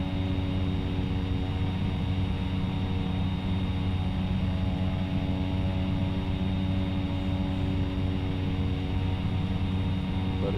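A steady, droning aircraft engine hum in X-Plane 11, holding level and constant throughout with a dense broadband whoosh and no pauses.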